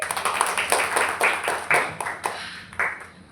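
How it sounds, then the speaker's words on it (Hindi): Children clap for a classmate during a storytelling session on plastic reuse and recycling, a steady run of roughly a dozen sharp, moderately quiet handclaps at an even rhythm. "यज्ञ के लिए ताली बजाएंगे।"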